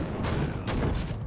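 Enemies blowing up in the action game Hero Siege, a dense run of muffled booms and crackling blasts, with two sharper bursts standing out against a continuous noisy din.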